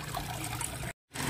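Water trickles and splashes steadily like a small waterfall into an outdoor fish tank, a close continuous burble that stops abruptly for a moment before resuming.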